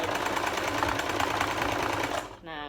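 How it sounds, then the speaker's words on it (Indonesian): A sewing machine stitches a webbing strap to a buckle with a zigzag stitch, its steady, rapid mechanical chatter running close and loud, then stopping as a voice briefly speaks at the end. "Nah sekarang aku mau jahit tali webbing sama buckle-nya ke sini dulu. Kita bakal pakai zigzag stitch lagi."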